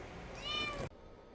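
A stray kitten being bathed for fleas and ticks gives one short, loud, rising meow up close, cut off abruptly, with quiet room tone before and after.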